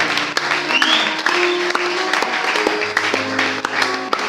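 A church congregation claps at a French-language service, with steady applause throughout and a few sharp individual claps standing out, mixed with faint voices and sustained tones in the background.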